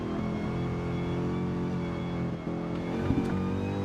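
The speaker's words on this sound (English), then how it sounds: "Car sounds could be a tad louder" Racing-simulator car engines drone during a GT endurance stint at Spa, a continuous layered hum of engine tones with slight shifts and a small bump near the end, no speech.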